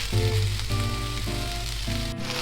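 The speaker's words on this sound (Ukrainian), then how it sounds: "І готуємо на сковорідці під кришкою 10 хвилин." Continuous sizzling of food frying in a covered pan, a steady crackling hiss with a low hum underneath.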